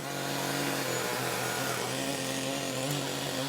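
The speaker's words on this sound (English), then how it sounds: "is sawing again, as are the other artists" Continuous loud buzzing of a motorized saw cutting a wooden tree trunk, steady and close, with no pauses.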